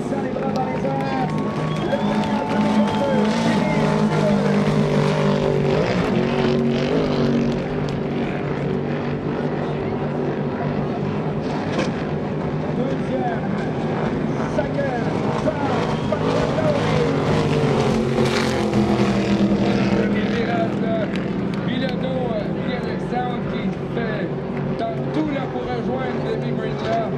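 Jersey Speed Skiff racing boats roar past in the final at a Valleyfield regatta, a steady loud engine drone under continuous announcer commentary throughout.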